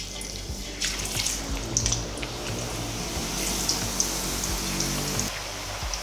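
Thin potato slices sizzle in very hot oil for crispy homemade chips, a dense, continuous crackling hiss close up that holds steady without any talking.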